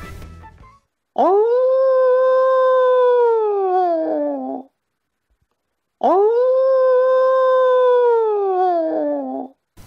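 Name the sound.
recorded howl of the legendary Iron Wolf at Gediminas Castle exhibit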